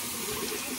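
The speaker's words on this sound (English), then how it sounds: "Rinse my hands." Hands are rinsed under a running tap, a short burst of steady splashing water close by with no talking.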